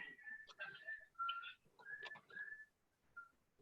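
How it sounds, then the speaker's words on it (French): A phone ringtone made of whistled notes plays quietly in short melodic phrases with brief gaps, sounding like a cheerful person whistling a tune. "C'est la sonnerie d'un téléphone."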